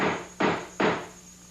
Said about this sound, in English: now it's just a matter of prying up the old floorboards